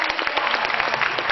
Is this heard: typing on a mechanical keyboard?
no